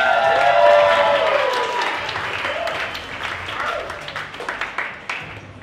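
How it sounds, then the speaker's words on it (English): Wedding reception audience applauds and cheers for the best man as he steps up to the microphone, a dense, loud burst of clapping that slowly thins toward the end. "We got a big round of applause for Cameron."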